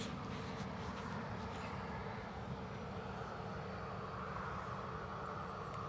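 Ex-Bolivian Air Force aircraft taxiing at Southend airport, a steady broadband engine drone holding at an even, moderate level from a middle distance, with faint airfield rumble beneath and no talk.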